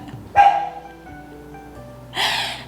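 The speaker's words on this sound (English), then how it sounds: "My dog's gonna bark." A dog close by gives two loud barks about two seconds apart, with quiet background tones between them indoors and no talking.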